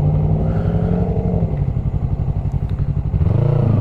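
A Yamaha MT03 motorcycle pulls away from a stop, its engine rumbling close and steady as it builds speed, then rising in pitch near the end, with no talking.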